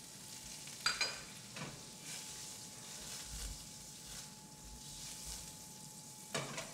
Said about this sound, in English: We're going to then melt our butter.